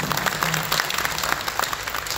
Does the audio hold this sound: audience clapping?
yes